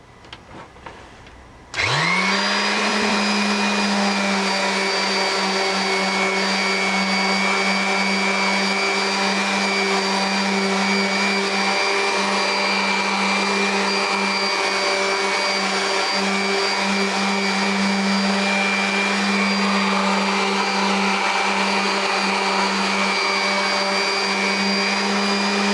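A Mac Allister 300W corded random orbit sander switches on after a short quiet moment and runs with a steady, loud motor whine and airy buzz, unbroken and with no talking.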